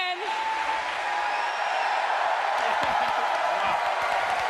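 A crowd cheers and applauds at the Halo 4 global championship finals, dense sustained clapping with whoops and shouts rising toward the end, loud and continuous.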